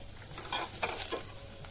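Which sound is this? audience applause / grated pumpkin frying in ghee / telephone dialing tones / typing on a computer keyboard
grated pumpkin frying in ghee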